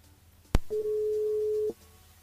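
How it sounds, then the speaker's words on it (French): A telephone line tone sounds while a radio show dials a listener: a sharp click, then one steady electronic tone lasting about a second, then quiet. "On appelle Evelyne sur le standard du côté du sud de Tampon"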